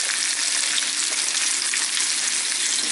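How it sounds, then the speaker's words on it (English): Beef browning in hot oil in a pan, a steady dense sizzle and crackle that stays loud and even throughout with no talking. "we're going to put the meat in there. And I'm going to fry this up and brown it."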